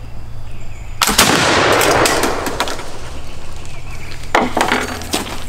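A flintlock musket fires once with a loud, close blast that rolls on for several seconds, followed by a few fainter clanks and a second burst of noise near the end.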